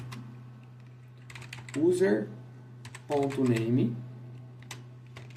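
A computer keyboard typed on during entry of a git config command, with a patter of light key clicks near the microphone while someone speaks Portuguese over them.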